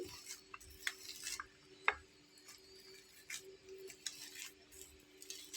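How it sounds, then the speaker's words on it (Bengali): Hot boiled potatoes being mashed with a potato masher in a bowl: quiet, irregular soft thuds, taps and squishy scraping strokes, close and faint, with no talking. "আমি এখানে একটা ম্যাশার দিয়ে আলুগুলোকে ম্যাশ করে নিচ্ছি।"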